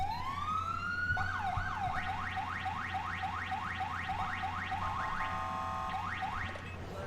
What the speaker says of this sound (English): And right now I also have a new siren